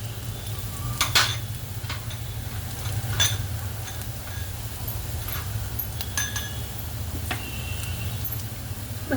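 Onion frying with turmeric in a pan for a quick vegetable dish: a low, steady sizzle under intermittent metallic clinks and scrapes of a spoon stirring against the pan.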